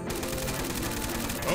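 A burst of rapid gunfire in the Free Fire video game, loud and dense throughout the short stretch, with a voice briefly audible underneath.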